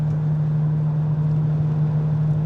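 Jaguar XJ-S V12 cruising in top gear at about 1,500 RPM and 56 mph, a steady low engine drone with road and wind noise from inside the cabin, continuous and even throughout.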